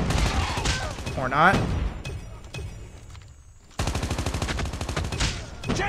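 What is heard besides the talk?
gunfire in video game Call of Duty Mobile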